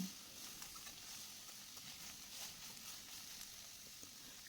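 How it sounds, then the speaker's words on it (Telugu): Cauliflower pieces frying in a pan, a faint steady sizzle with light crackles throughout, fairly distant and quiet. "కాలీఫ్లవర్ని పచ్చివాసన పోయే వరకు బాగా రెండు మూడు నిమిషాలు ఫ్రై చేసిన తర్వాత"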